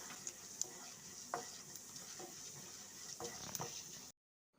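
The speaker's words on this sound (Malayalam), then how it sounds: "ഉഴുന്ന് ചേർത്ത് കടുക് വറക്കുമ്പോൾ ഈ കറിക്ക് നല്ലൊരു ടേസ്റ്റും അതുപോലെ നല്ലൊരു സ്മെല്ലും കിട്ടുന്നുണ്ട്." Mustard seeds and urad dal frying in hot oil for a Kerala moong dal curry, a steady close sizzle with scattered pops and occasional spoon scrapes, then a sudden cut to silence.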